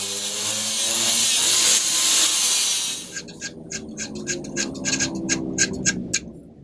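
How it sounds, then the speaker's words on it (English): The tines of a forged steel claw hammer are ground with a loud, continuous whir for a few seconds, then filed with a run of short, rhythmic rasping strokes. "true up those tines a little bit more here, just by a little bit of grinding and also a little bit of filing."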